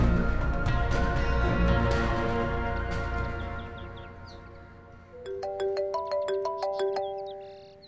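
A mobile phone in a scene from the Pakistani drama Meray Ranjhna starts ringing partway through, a melodic repeating electronic ringtone that follows fading background sound and continues steadily to the end.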